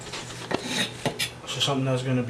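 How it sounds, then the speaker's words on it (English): A knife cuts thick slices of a breakfast ingredient on a board, with several sharp scraping strokes and clinks of the blade, close and moderately loud, heard alone without talk. "now you want to cut pretty, thick slices"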